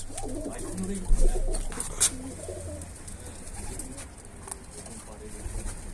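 Pigeons coo in a coop, several soft rolling calls close by, with a person briefly talking near the start and quiet background rustling.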